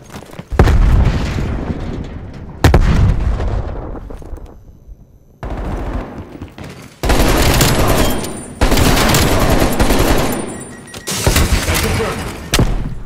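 A frag grenade blast amid Call of Duty Black Ops Cold War multiplayer combat: repeated loud, booming explosions and bursts of gunfire come in separate heavy blasts over the fight, each followed by a short fading tail.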